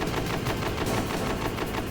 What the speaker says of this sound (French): Alors oui, il y a la mitraillette